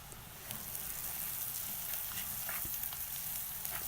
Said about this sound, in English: still simmering in the oil